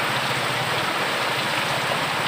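Heavy rain from Typhoon Ompong pouring down over a flooded road, a dense, loud and unbroken roar of water that stays steady from start to finish, with no voices.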